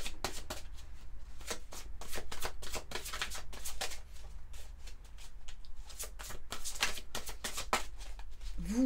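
Angel tarot cards being shuffled, a steady run of quick papery riffles and flicks close up, continuing for several seconds with no talking.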